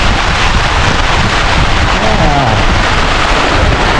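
Strong wind howls across the open sea as a squall builds, buffeting the microphone in a loud, continuous roar with gusting rumbles, and voices come through faintly underneath.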